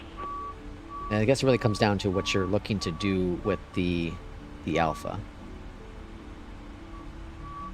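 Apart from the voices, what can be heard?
garbage truck reversing beeps outside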